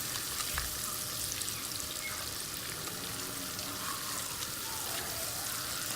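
Garlic and red chili flakes sauté in a pan, a steady, faint, even sizzle running throughout without talk.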